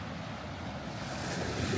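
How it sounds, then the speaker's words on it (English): Ocean waves rolling onto the shore in the early morning, a steady broadband wash of surf that swells slightly louder toward the end, with some wind noise and no voices. "The waves come in"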